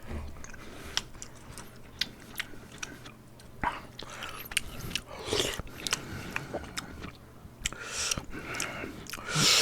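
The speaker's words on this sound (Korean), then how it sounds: "내가 두부 좋아하니까 두부만 먼저 먹고 버려야겠다" Tofu from a kimchi tuna stew is eaten at close range, with soft wet chewing and sharp bite clicks scattered irregularly over a quiet background and no speech.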